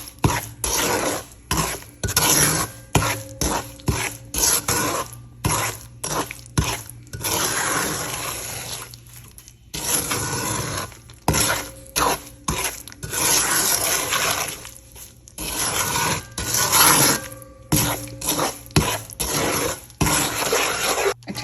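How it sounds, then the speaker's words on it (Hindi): A spoon stirs semolina halwa in a metal pan, scraping and clinking in steady bursts with short pauses, loud and close throughout. "और चमचा साथ साथ हिलाते रहें ताकि इवनली हम उसको मिक्स कर सकें"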